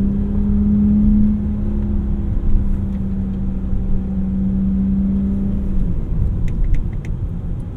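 A 2008 BMW 328i's engine drones while driving, a steady low rumble with a sustained tone that holds then drops away as the revs settle, with faint road noise on top.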